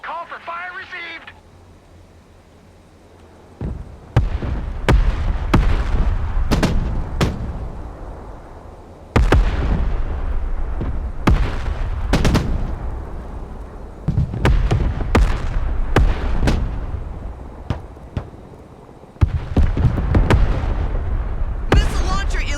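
Artillery strikes in the Broken Arrow war game land as a series of sharp, loud booms with rumbling tails, several impacts spread irregularly, mixed with radio-style voice chatter.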